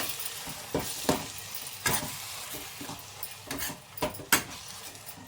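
Ground masala paste frying in a pan, a close, continuous sizzle broken by repeated sharp scrapes and clinks of a spoon stirring against the metal, irregular and fairly loud, with no talking.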